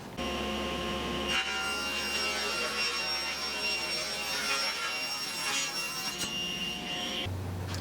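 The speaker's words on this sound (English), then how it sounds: "with my fence adjusted to 8 inches, we're going to rip the lower long shelf." A table saw rips a long wooden shelf board with the fence set at 8 inches, a loud high whine of the spinning blade with a rasping cut sustained for several seconds before it eases.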